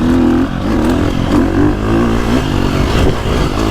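A 2025 KTM 350 XCF four-stroke dirt bike engine revs loud and close, its rough throttle blips rising and falling across the stretch with some mechanical clatter.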